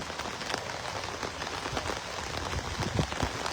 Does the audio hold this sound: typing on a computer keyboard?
no